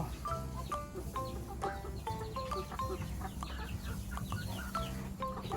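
Laying hens and gamecock hens on a small farm cluck repeatedly in short, irregular bursts, several birds close by over a steady background.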